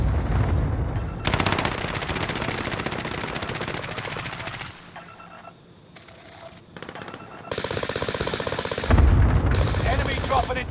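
Rapid automatic gunfire from the video game Warzone on the Caldera or Fortune's Keep maps, sounding in long loud bursts with short pauses, while players talk over it.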